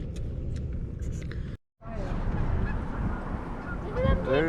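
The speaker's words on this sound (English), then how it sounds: "There's your snow geese out there." Snow geese honking out on a lake on a very windy day, a scattered, moderately distant chorus of calls buried in heavy wind rumble, with a brief dropout partway through.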